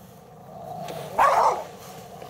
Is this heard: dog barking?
yes